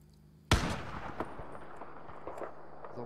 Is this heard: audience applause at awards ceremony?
no